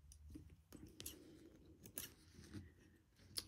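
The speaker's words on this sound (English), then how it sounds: "should be using a tiny little pair of scissors, Sandy, not a great big huge cutting pair." A small pair of scissors snips sewing thread after a knot is tied while making a thermal-lined Roman blind, giving a few quick, quiet cuts over low room noise.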